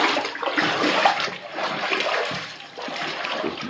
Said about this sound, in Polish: Trochę wody mamy.